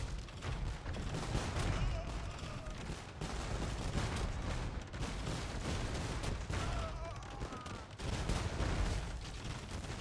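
Organ Gun and Hussite Wagon volleys in a video game match: dense, continuous crackling gunfire with rumbling booms throughout, under a voice talking.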